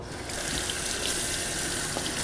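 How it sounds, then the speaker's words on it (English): Water from a kitchen tap runs steadily in a home kitchen while a knife is rinsed after preparing king salmon, a loud, close, continuous splashing rush with no talking. "All right, rinse the knife off."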